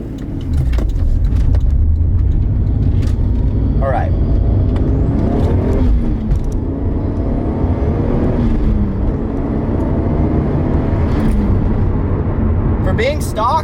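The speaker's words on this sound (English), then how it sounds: "I'll do a little pull here," A stock Toyota MkIV Supra accelerates on a pull, its engine droning loudly and rising in pitch from inside the cabin, with a brief spoken remark.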